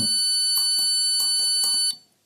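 A shrill, steady electronic tone from an NE555 timer circuit sounds continuously for about two seconds with faint clicking underneath, then cuts off abruptly.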